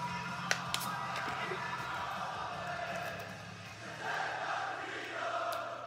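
Wrestling arena crowd at WWE Backlash in France singing in unison, a sustained chant filling the hall at a distance, with a close voice talking over it.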